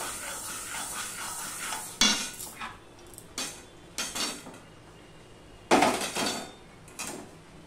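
Mung dal is stirred in a hot kadai taken off the heat: a series of sharp metallic scrapes and knocks, about six separate strokes spaced irregularly, close and clear over a quiet background.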